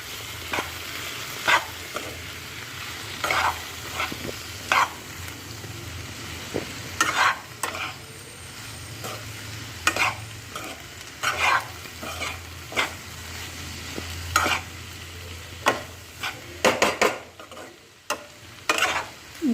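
Capsicum masala being stirred in a pan, a steady low sizzle under repeated sharp scrapes and clinks of a spoon against the pan at an uneven pace, close and fairly quiet, with no talking.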